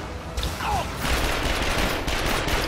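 Rapid gunfire in The Darkness II, a steady burst of shots filling the clip at close range and fairly loud, with no talking over it.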